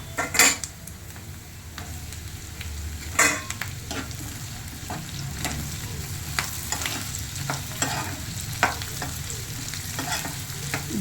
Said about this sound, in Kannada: ಈರುಳ್ಳಿ ಎಲ್ಲ ಕಂದು ಬಣ್ಣಕ್ಕೆ ಬಂದಿದೆ ಈಗ ಕ್ಯಾಪ್ಸಿಕಮ್ ಹಾಕ್ಕೊಳ್ತಾ ಇದ್ದೀನಿ